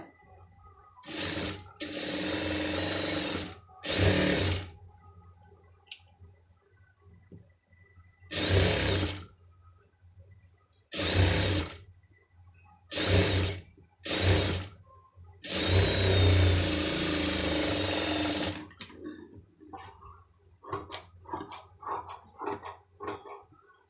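A sewing machine stitches a sleeve design in repeated loud bursts of running, each a second or two long, with one longer run, separated by pauses filled with small handling clicks and taps.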